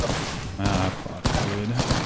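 Bursts of gunfire in Apex Legends, several sharp shots in quick succession with a clear gap around the middle, loud and close, over game noise.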